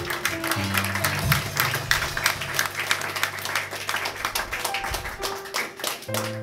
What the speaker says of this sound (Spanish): Ponga sus manos juntas. Dale un aplauso a Reyes Reyes.